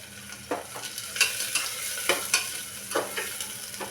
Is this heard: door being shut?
no